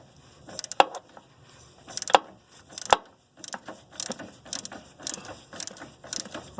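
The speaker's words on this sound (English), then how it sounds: "And you can see the ratchet spinning." A ratchet with a 14mm socket and extension loosening a nut on a 2005 Honda Odyssey power steering hose housing, giving quiet clicking bursts of pawl ratcheting in short irregular runs, close and fairly faint.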